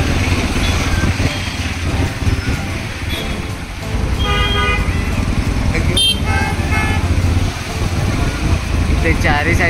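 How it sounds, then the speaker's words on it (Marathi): Heavy traffic jam at a junction on the Mumbai-Goa highway, with car and motorcycle horns tooting repeatedly over a constant rumble of idling and creeping engines and voices in the background. "इथे ट्रॅफिक झालंय आणि मागे गाड्या खूप अटकल्या"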